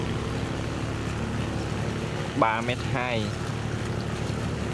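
A huge, fairly new seagoing barge on a canal produces a steady low engine drone and wash, with someone speaking briefly over it partway through.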